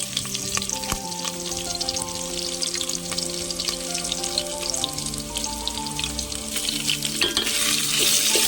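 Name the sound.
frying ginger garlic paste in hot oil for chicken biryani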